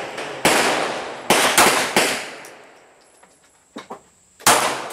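Several sharp handgun shots from a Glock 43 and a .44 Magnum at a shooting session, loud and close, fired at uneven intervals with echoing decay and a couple of fainter shots in between.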